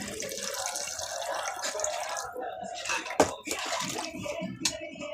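Water pours into a cooking pot ahead of boiling rice, a running, splashing stream close by that briefly breaks and resumes with a few sharp splashes.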